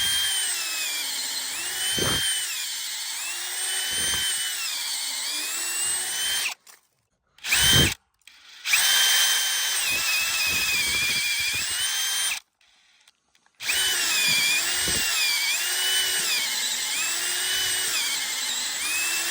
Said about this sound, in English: So we'll just have to drill our hole through from both sides